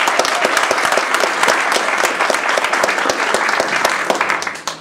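An audience at a Toastmasters Table Topics contest claps loudly and steadily for nearly five seconds, a dense close burst of many hands that trails off at the end.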